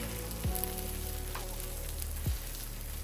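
A dosa sizzles steadily on a hot pan while it is folded, pressed and flipped, with two brief soft scrapes or thumps breaking through the close, continuous frying hiss.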